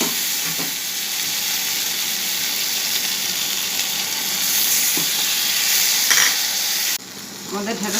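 Okra curry frying in a pan while being stirred, a loud, steady sizzle and hiss throughout with occasional utensil scrapes, the frying sound dropping briefly near the end.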